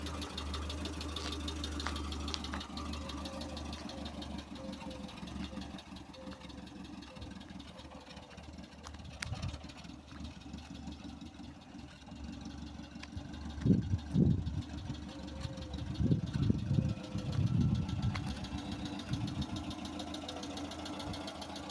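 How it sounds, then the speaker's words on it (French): A Peugeot 404 engine idles after being restarted following repair work, a steady low rumble running throughout with a few louder uneven surges near the end, no voices over it. "Le moteur tourne"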